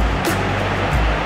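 Sea waves at Ladder Beach, Saipan, a loud, steady wash of surf close by, with a couple of brief hissing splashes.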